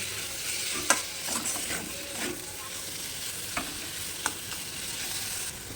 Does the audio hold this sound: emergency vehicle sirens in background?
no